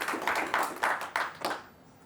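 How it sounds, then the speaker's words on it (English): Applause from the audience at a Python meetup talk, a short burst of about five or six pulses of clapping from a small crowd, moderately close, fading out near the end. "please give him a round of applause"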